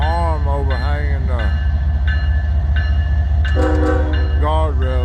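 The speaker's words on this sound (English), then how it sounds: "Engineer honking at us." An ES44AH locomotive pulling into a rail yard sounds its horn in several loud, close blasts of varying length, over the heavy rumble of the moving train.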